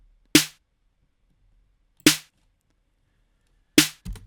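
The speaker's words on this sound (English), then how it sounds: "Already, you're hearing more of a thump, even out of the snare." Punchy EQ'd snare hits from a drum beat built in FL Studio, three loud, sharp thumping strikes spaced about 1.7 seconds apart with silence between, alone without any talk.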